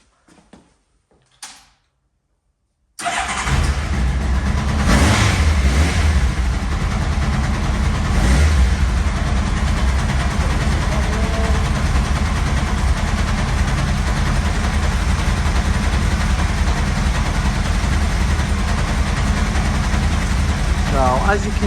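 A Honda CBR Blackbird motorcycle with unbalanced carburettors fires up after a few faint knocks, then runs loud and steady at a lumpy idle with a couple of revs, close by, with a voice speaking over it.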